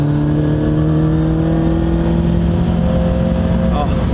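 An Alfa Romeo GTA-R290 engine revs hard, heard up close from inside the car as a loud, sustained, raspy drone with a strong steady pitch throughout.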